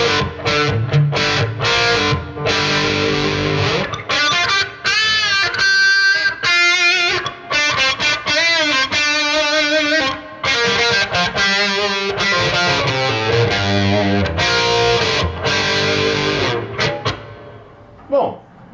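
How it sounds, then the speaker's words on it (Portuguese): An electric guitar runs through a Rat distortion pedal model on a Zoom G1 Four multi-effects unit with almost no reverb, playing loud, gritty riffs and sustained chords that ring out and drop away near the end. "clássico, clássico, com uma distorção bem interessante. E o Rat é um pedal bem versátil."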